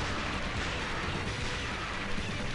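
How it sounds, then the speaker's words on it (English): Dense, continuous barrage of explosions and grenade blasts from the arcade run-and-gun game Metal Slug, loud booming noise filling the whole stretch with no pauses and no voices. "There's a second I couldn't even see where I was because of all the explosions and stuff."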